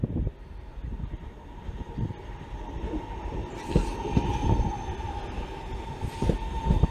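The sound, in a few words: Class 323 electric train passing a platform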